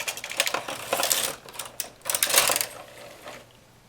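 A knitting machine carriage drawn across the needle bed, knitting a row in two colors, red and white, as a candy cane i-cord: a close, clattering mechanical rattle that swells in two bursts and then fades.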